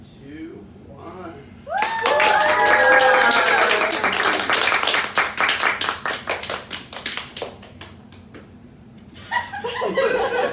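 Audience at an anime-themed hypnosis show clapping and cheering, with loud applause and laughter swelling at once, thinning into scattered claps, then rising again near the end; voices call out and laugh throughout.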